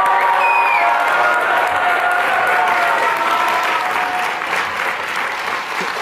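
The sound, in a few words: graduation audience applause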